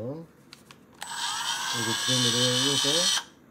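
A Dremel rotary tool whines steadily at high pitch for about two seconds, close and loud, while a person talks over it, grinding a differential gear part for an HB Racing D8 RC car.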